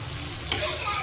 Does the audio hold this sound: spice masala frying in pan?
yes